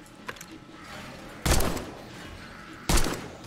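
Gunfire in the video game 7 Days to Die: two heavy, loud shots spaced about a second and a half apart over a low background hum, with a faint click before them.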